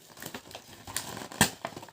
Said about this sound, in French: je vais voir si je peux le déballer sans le casser